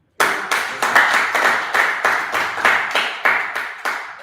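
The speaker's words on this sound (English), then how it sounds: "You know why we are clapping to that?" A small group claps in uneven bursts for a young person given a rating of four out of ten, with about a dozen sharp, fairly close, loud clapping swells spread over a few seconds.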